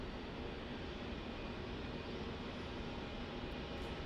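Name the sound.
Virgin Australia airliner departing Melbourne Airport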